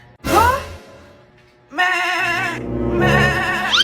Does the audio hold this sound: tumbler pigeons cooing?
no